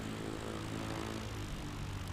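A Carbon Cub light aircraft at a STOL competition drones steadily with its engine and propeller, faint and somewhat distant, over a short stretch with no talking.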